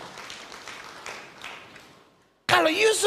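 A church congregation applauds during a Christian sermon, a steady spread of clapping that fades out over about two seconds, followed after a short pause by a loud voice speaking.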